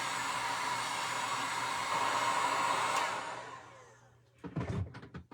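A crafting heat tool blowing steadily to dry Mod Podge on a heart wreath centerpiece, a loud continuous whooshing hum that fades out, followed by a few knocks and handling sounds.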